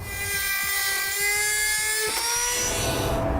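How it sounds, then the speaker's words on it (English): A cutoff wheel slices through the plastic air deflector of a 2014 Honda CR-V, producing a loud, close, continuous high-pitched whine that wavers in pitch as it cuts, with no voices. "We're going to use a cutoff wheel to do this."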